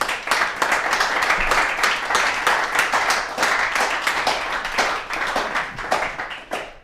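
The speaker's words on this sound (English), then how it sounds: "huge round of applause" Sustained audience applause at the close of a conference talk on content marketing, many hands clapping densely and steadily at full volume with no speech over it.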